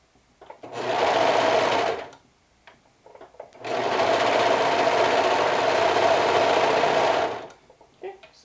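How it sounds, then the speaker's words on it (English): A squeaky serger sewing machine gathers fabric in two close, loud bursts of fast mechanical whirring, one short and one longer, with quiet pauses between them. "I just use this serger right now for gathering"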